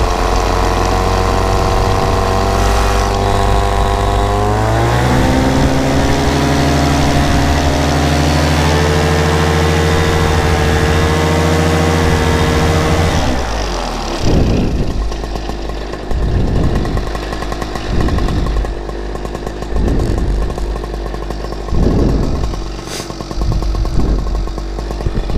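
A paramotor's two-stroke engine runs up at close range in an open field before a test flight in Elkton, Kentucky, revving steadily with rising and falling pitch, then throttles back to a lumpy idle with sharp repeated blips.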